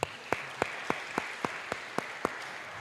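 An audience at a convention of teachers with visual impairment claps in unison to a steady, even beat, about ten sharp synchronized claps over a soft background of scattered clapping.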